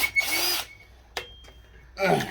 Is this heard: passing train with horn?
no